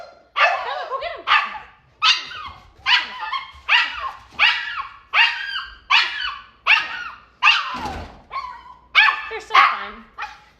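A dog barks repeatedly at another dog walking past the house, loud, close bow-wow barks in a steady rhythm of about one per second, with a few yips mixed in.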